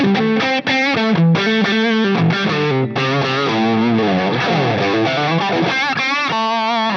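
An electric guitar on the middle pickup position plays through a Line 6 Helix set to the Cali Texas channel, with a distorted, sustained lead line and bent notes, loud and alone.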